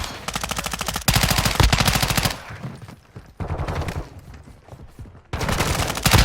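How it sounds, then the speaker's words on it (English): Loud, sustained automatic gunfire from a Call of Duty military mission, with dense bursts of rapid shots that briefly drop to quieter scattered fire before another heavy burst at the end. "Taking fire!"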